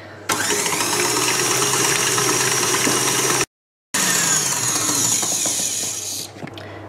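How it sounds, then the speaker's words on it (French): A stand mixer whisking eggs and sugar gives a steady, loud motor whir that runs continuously, briefly cutting out before resuming, then fading slightly near the end. "dans un robot, je vais mélanger les œufs avec le sucre"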